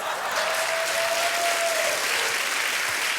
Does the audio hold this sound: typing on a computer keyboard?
no